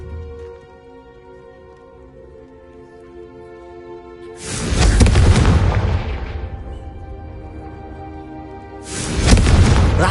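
A Confringo fire spell blasts in Hogwarts Legacy, two heavy booming bursts of explosive rumble, the first swelling and fading over a couple of seconds, the second striking a few seconds later over a quiet musical background.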